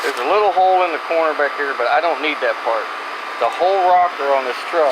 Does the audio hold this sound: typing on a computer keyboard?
no